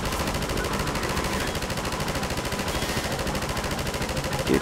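Rapid machine gun fire from the video game Half-Life 2, a dense unbroken stream of shots at close range, loud and sustained throughout with no talk.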